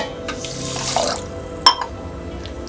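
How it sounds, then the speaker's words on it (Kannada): Water runs into a pan with sugar to make syrup for a cashew sweet, a steady trickling splash lasting a couple of seconds, closed by a sharp metallic clink. "ಹಾಗೆ ಸಕ್ಕರೆ ಈ ತೋಪಿನಲ್ಲಿ ಹಾಕಿ ಇದಕ್ಕೆ 1/4 ಗ್ಲಾಸ್ ನೀರು ಹಾಕಿ"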